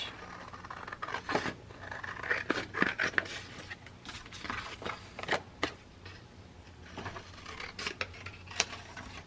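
Scissors cut paper for a scrapbook mini album: a series of crisp snips and rustles at close range, irregularly spaced and fairly quiet, with no voices.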